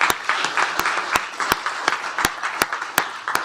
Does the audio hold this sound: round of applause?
yes